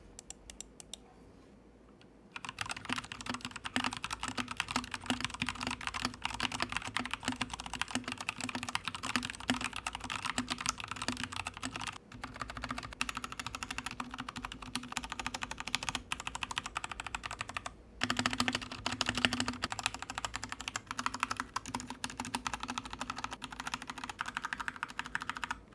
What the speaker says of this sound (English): Before starting the modding process, I did a quick typing test with the stock keyboard.